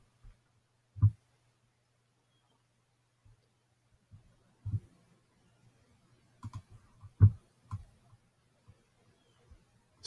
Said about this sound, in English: on the left here, click on change theme.